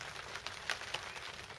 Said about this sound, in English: It's been pissing down.